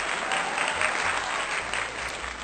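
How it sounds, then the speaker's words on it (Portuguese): A short burst of steady, dense applause, a crowd clapping evenly at moderate volume from start to finish with no talk over it. "uma salva de palmas também aí para todos os nomes que estão na tela"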